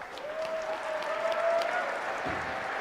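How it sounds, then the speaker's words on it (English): Moderate applause from an audience at a district robotics competition, a steady wash of clapping in a large hall with a faint tonal hum running beneath it. "Please stand up and give a round warm of applause for our judges"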